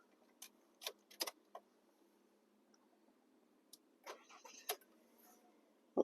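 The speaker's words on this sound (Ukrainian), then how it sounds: "машинка завелась" A 2009 Mazda with a 1.5 petrol engine and automatic gearbox being started: quiet clicks and key jingles, a few short mechanical rattles, then a brief crank at the very end, faint and close inside the car.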